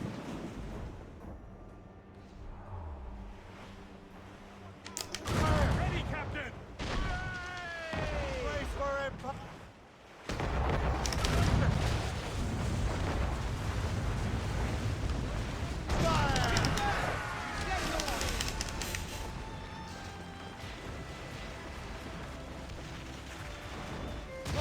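Ship cannon fire in the Assassin's Creed Rogue video game, heavy booming volleys in several bursts over rolling ocean waves and surf, loud and echoing, with voices shouting between shots.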